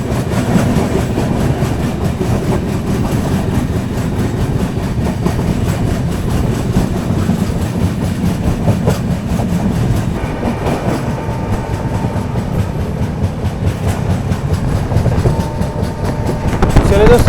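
The Dehradun–Subedarganj Express runs past Harrawala railway station with a loud, continuous rumble and rhythmic clickety-clack of wheels over rail joints, while someone talks intermittently over the noise.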